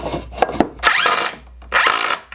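A power drill drives screws into 2x4 bench boards in two close, loud bursts, each whirring up and biting into the wood, with a couple of short knocks before them.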